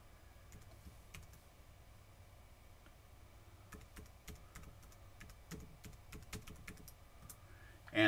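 Password being typed on a computer keyboard, irregular soft key clicks building into a quicker burst, close but quiet with no talking.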